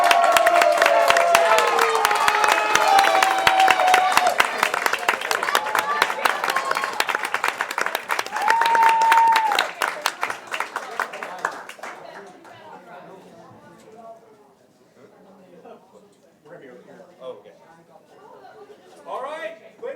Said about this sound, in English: Can we get another round of applause for every single player that competed in the Spring 2024 season?